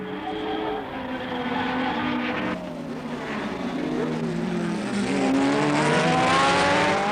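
Formula One race cars at the 1968 Mexican Grand Prix scream past in turn, engines rising and falling in pitch as they approach and pass, loud and close.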